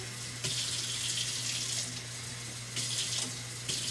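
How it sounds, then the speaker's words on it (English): Water pours into a skillet in a few splashing bursts, a rushing hiss that stops and starts over a low background hum. "We're going to go ahead and add our 1 cup and 1/4 of water."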